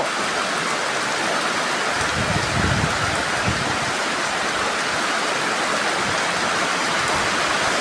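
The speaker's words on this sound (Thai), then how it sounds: "ฝนตกอีกแล้วนะคะ" Steady rain falling hard, a dense continuous hiss of drops on surfaces, close and even throughout with no talking.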